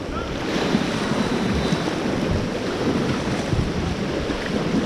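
River rapids on a white water rafting run toward a waterfall drop in Rotorua, a loud, steady roar of rushing water with wind buffeting the microphone and no speech.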